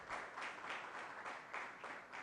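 Rhythmic applause at a live stage event in Ujjain, rising and falling in several swelling waves, fairly faint and distant with no talk.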